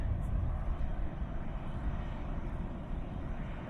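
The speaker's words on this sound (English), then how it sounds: "there is an aircraft there somewhere." An aircraft at Dublin Airport produces a low, steady rumble that holds moderately loud and unbroken for the whole stretch, with no talk over it.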